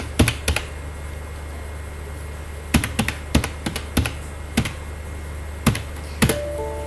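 Separate keystrokes tap on a computer keyboard while text is entered in an MS Excel cell, about a dozen crisp clicks in loose clusters with pauses, over a faint steady hum.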